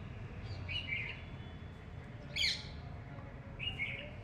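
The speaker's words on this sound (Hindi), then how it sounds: "चिड़ियों की चहचहाते थे" Quiet outdoor ambience with three short bursts of bird chirping spaced apart, the middle call brightest and closest.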